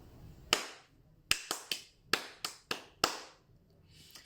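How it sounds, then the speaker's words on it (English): Hands clapping a rhythm: eight sharp, close claps in an uneven pattern, a single clap followed by quicker groups, each ringing briefly in a quiet room. "So I'm just going to clap a rhythm now."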